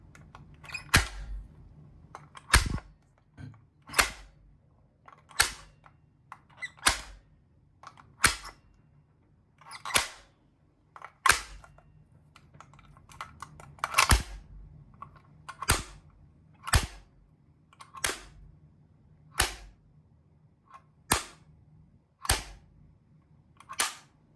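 Sharp mechanical clicks from Geya and Tomzn automatic transfer switches repeat at a steady pace, roughly one every second or so, each a crisp snap over a low electrical hum.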